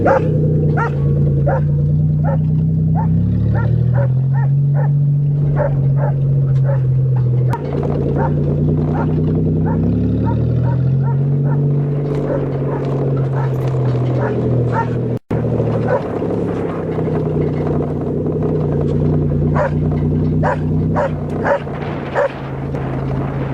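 A guide dog barks repeatedly at a farm while a manual Toyota is driven slowly in first gear, a steady run of short, loud yaps over a continuous low engine drone that shifts pitch as the car moves.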